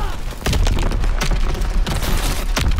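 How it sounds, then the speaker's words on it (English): Rapid gunfire cracks and booms in Call of Duty: WWII, with bullets punching through two sets of wooden crates; dense, loud, repeated impacts fill the short stretch with little pause. "I'm getting shot through two sets of crates that you are not supposed to get shot through"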